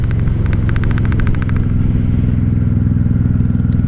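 A 1995 Honda Shadow VLX 600 (VT600CD) V-twin motorcycle on a ride gives a steady, close, throbbing engine rumble with a rapid pulsing beat and some mechanical clatter, loud and continuous.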